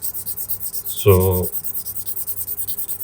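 A brief, light rub of 2000 grit sandpaper along a painted leather edge, one short scrape about half a second long, close over a steady background hum, with a single spoken word.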